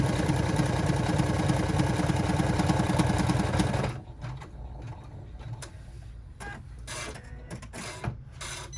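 A sewing machine stitches a zipper onto a Dolly Mini rucksack, running in a fast, loud mechanical whir before stopping, then a few clicks and shifts of fabric follow.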